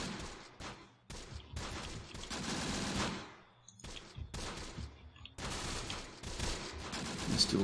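Soldiers fire in the Close Combat: The Bloody First video game, with bursts of rapid gunfire and volleys cutting in and out. Brief gaps fall between the loud, dense fusillades.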